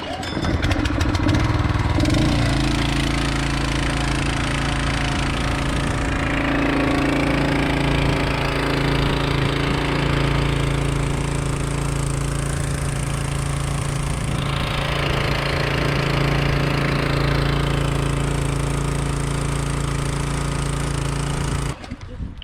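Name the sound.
gas engine of foliar sprayer pull-started and running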